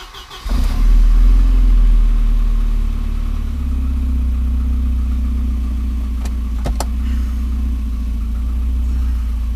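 A turbocharged Volvo 240 engine cranks and fires up, then settles into a loud, steady idle with a deep rumbling tone, recorded close by.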